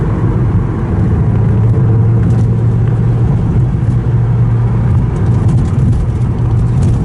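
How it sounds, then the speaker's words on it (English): A Porsche 944 Turbo engine pulls hard from inside the car, giving a loud, steady droning roar that holds constant under acceleration as the turbo boost comes in, with no talk over it. "when you drive this and the turbos kick in, and it's like a double VTEC"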